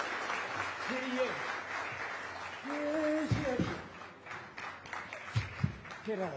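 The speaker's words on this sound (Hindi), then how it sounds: "वही तालियां रुकनी नहीं चाहिए मेरे ख्याल से" Audience applause at a live televised chat show with a guest: continuous, fairly faint clapping running under voices that speak throughout.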